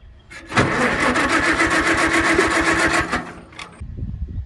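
A small engine fitted with a Chinese carburetor starts and runs loud and close with a steady buzzing drone for about two and a half seconds, then sputters and dies, leaving faint rustling.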